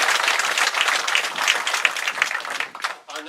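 Audience applause at a Tyson Foods plant groundbreaking ceremony in Humboldt, Tennessee: a sustained, dense outdoor round of clapping from a crowd, steady throughout before tapering off at the end.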